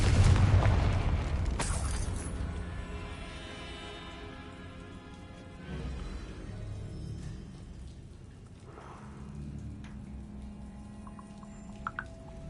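Confringo blasting spell explosion in the Hogwarts Legacy video game, a loud booming burst at the start that rumbles and decays over several seconds, followed by quieter lingering game ambience.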